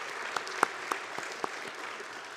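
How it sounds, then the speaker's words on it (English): Applause from a luncheon audience at a business chamber event, a handful of sharp claps standing out over a soft, steady wash of background noise before fading. "A round of applause for those people that are investing in Cairns business."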